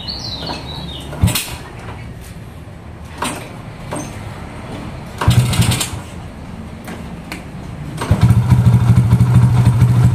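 A custom-built Honda C70 motorcycle fitted with a Yamaha Jupiter engine runs nearby, idling with sharp revving bursts and a louder, rougher throttle surge near the end.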